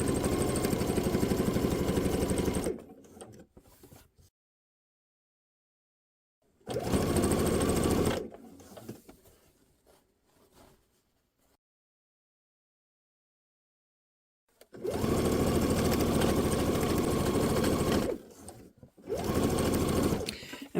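Sewing machine stitching a zippered quilt block pillow, three loud sustained runs of steady motor whir with pauses between them, close up, no talking over the stitching.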